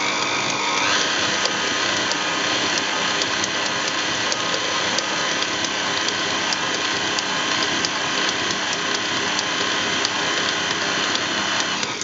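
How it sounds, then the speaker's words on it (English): An electric stand mixer beats vanilla cupcake batter at low speed, giving a steady, loud mechanical whir with a fine ticking rattle that continues unbroken for the whole stretch. "So I'm going to let it mix slowly for just a little bit"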